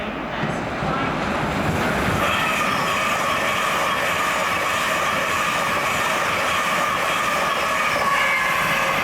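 A passenger train runs on rails near Doncaster with a steady, loud rumble of wheels. A faint high squeal is heard along with occasional clicks, continuous throughout and with no clear talk.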